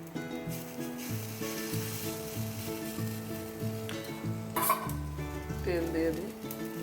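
Idli toasting in a pan give a quiet, steady sizzle, with an occasional clink of a utensil against the pan over a soft tonal background.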